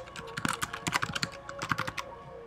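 Typing on a computer keyboard, close and clear, with rapid irregular key clicks in quick bursts and short pauses, with no voices.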